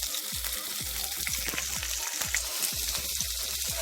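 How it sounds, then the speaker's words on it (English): Scallion, garlic and onion sauté in a pan for a Jamaican breakfast, giving a steady close sizzle broken by faint rhythmic stirring taps. "So I'm sauteing my scallion, my garlic, and my onion."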